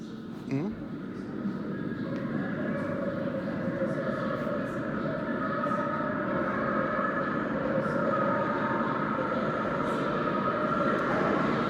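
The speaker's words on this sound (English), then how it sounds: "I believe there could be a train approaching." A London Underground train rumbles in the distance and grows gradually louder and closer as it approaches, with a brief knock near the start.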